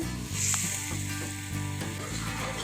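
Sugar goes into milk cooking in a pot, giving a steady close bubbling sizzle with light stirring scrapes, and no talking.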